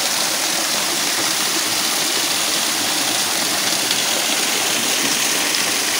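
Loud, unbroken roar of rushing water from the Bhangi Kusum waterfall at Kankrajhor, Belpahari, heard up close as a steady broadband wash for the whole stretch, with no speech.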